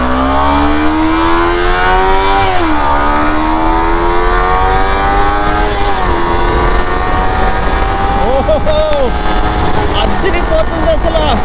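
A 2021 Kawasaki Ninja 300 BS6 with a 296cc liquid-cooled, fuel-injected DOHC parallel-twin engine, loud and close, with engine pitch climbing steadily through gears, dipping at shifts and rising again under a steady rushing background.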